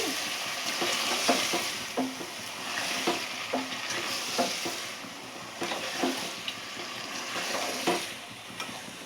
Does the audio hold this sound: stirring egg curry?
yes